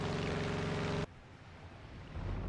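Warship engine at flank speed in the War Thunder Mobile game: a loud, dense mechanical roar for about a second, then it drops to a lower, steady rumble of engine and water noise.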